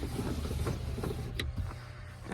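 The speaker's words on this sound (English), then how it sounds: "I'm gonna roll this window down so you guys can hear." An electric power window motor whirs briefly and faintly as the window of a 2001 Dodge Ram 1500 pickup rolls down, amid low background hum.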